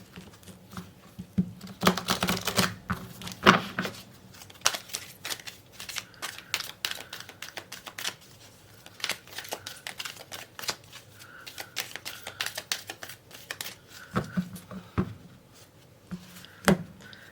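Tarot cards shuffled by hand at close range, a long run of quick riffling patters and soft slaps in irregular bursts, with short pauses between handfuls and no talking.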